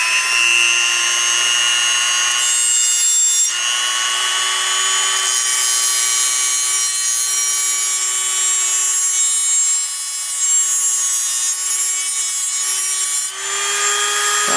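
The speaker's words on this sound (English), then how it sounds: "take a Dremel and make a flat spot right there" A Dremel rotary tool grinds a flat spot onto a metal axle where a lock nut will sit, giving a steady high-pitched whine close by that holds for the whole stretch with only brief dips in load.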